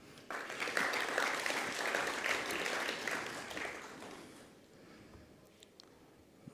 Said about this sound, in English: please join me once again to give a warm hand of applause